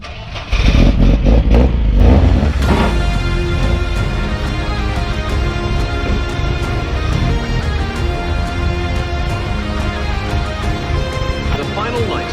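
An Opel Ascona 400 Group 4 rally car engine starts with a cough, then roars loudly and steadily revs up close by, rumbling deeply while people talk underneath.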